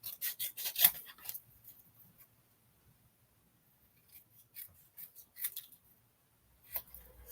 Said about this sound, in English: I'm going to snip these little sentiments out.